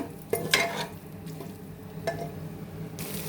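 Mutton dropped into a hot pan with salt and turmeric, frying with soft sizzling and a few sharp stirring scrapes and clatters, close and moderately loud, no talk.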